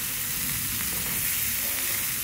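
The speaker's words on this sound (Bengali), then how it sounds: "এখন আমি হলো ফুলকপির পাকোড়াগুলো ফ্রাই করে নিব বেসনে ডিপ করে।" Cauliflower pakoras dipped in gram flour batter deep-frying in hot oil, a dense continuous sizzle and bubbling hiss, close and steady with no talk.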